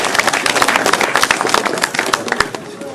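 Audience clapping at a French-language speaking event, a dense run of individual claps rising and falling over a few seconds, fairly close and loud with no talk over it.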